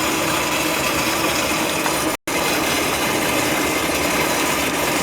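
Air and water hissing and gushing out of a newly installed gas water heater being bled, a loud continuous spray with one brief break.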